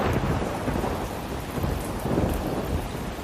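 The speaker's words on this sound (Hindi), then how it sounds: "लेकिन घर पर आते ही भयंकर बारिश शुरू हो गई" Heavy rain pours down in a dense, steady hiss while deep thunder rumbles underneath, swelling and fading, with no voices.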